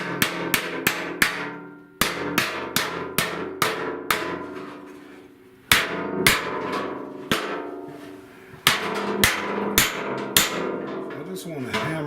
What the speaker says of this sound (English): I just want to hammer that